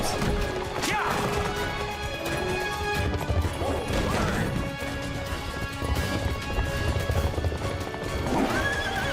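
Horse from Tangled: The Series whinnying repeatedly over steady clip-clop of hooves, with crashing thuds and busy cartoon action sounds filling the scene; loud and close throughout.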